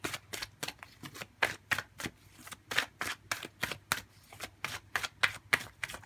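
Tarot cards are shuffled by hand in a quick run of crisp riffling bursts, close and fairly quiet, with short pauses between clusters and no talking.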